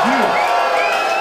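A crowd at a live hip hop show cheers and whoops in a brief, loud burst of noise.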